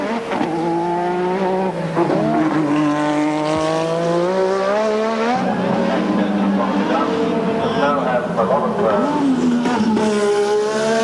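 A 1986 Formula One car in practice at the Australian Grand Prix screams past with a high, wailing engine that rises and falls through gear changes, heard under a commentator's continuous talk.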